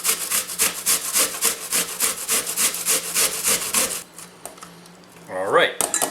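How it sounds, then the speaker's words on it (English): A large peeled onion grated on a box grater, giving a fast run of rhythmic rasping strokes up close that stops partway, followed by brief handling noises. "we've peeled it and we're now going to just grate it"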